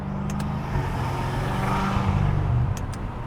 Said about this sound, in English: If you just tap the pedal, it just starts popping.